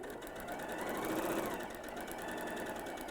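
A sewing machine stitches a paper-pieced quilt block, giving a steady, close mechanical whir with fine rapid needle pulses that runs evenly and without a break for about three seconds, and nobody speaks.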